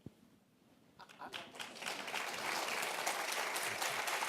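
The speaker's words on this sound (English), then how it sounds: "don't let anyone see you clapping for that" Audience at a panel discussion on the Constitution breaks into clapping after a quiet opening, swelling into a continuous, moderately distant round of applause.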